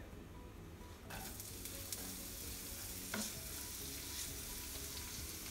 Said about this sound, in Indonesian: Masukkan 3-4 sendok makan minyak goreng, lalu tumis bawang putih dan bawang bombay.